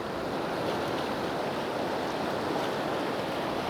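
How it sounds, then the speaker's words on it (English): Ocean surf rushing in over a shoreline at a sunrise seascape, a steady broadband wash of waves with wind noise on the microphone, continuous and fairly close with no talk. "I'm going to keep taking a few shots whilst the water rushes in like that"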